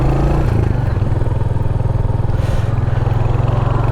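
A 2023 Royal Enfield Hunter 350 single-cylinder motorcycle engine thumps steadily and loudly at close range as the bike rides off, with a pulsing low rumble and some wind noise, without speech.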